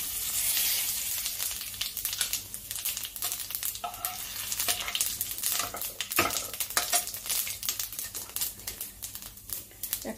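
Whole cumin seeds and two bay leaves sizzle in hot oil for a katla fish curry made without onion or garlic, giving a steady close frying crackle with stirring scrapes throughout and no talk.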